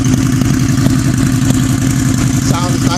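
A 2003 Harley-Davidson V-Rod VRSC motorcycle engine idles steadily after sitting unstarted for a couple of days, giving a loud, close, continuous low rumble with an even pulsing beat and no voices.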